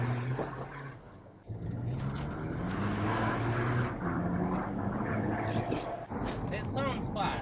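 A slammed, modified 200 bhp VW Passat B6 diesel with a DSG gearbox driving, its steady engine drone and road rumble running under continuous talk from people in the car.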